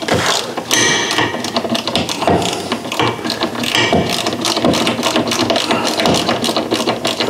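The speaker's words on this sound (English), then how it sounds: "So this is a 17mm socket on the ratchet." A ratchet with a 17mm socket turns bolts on the air-ride suspension brackets of a Fiat Ducato motorhome, giving steady, close clicking that repeats in quick rhythmic strokes throughout.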